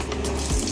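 Water runs from a newly installed touch faucet in a boat galley, a short steady hiss of spray streaming into the sink, fairly close.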